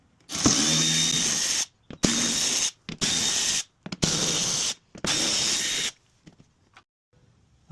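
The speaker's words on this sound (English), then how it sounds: "So these little screws here need to come out so I can pull this down." A power tool backs out 5.5mm screws from a Ford Raptor truck fender in a series of loud, close bursts of ratcheting whir, five runs separated by short pauses, with no talk.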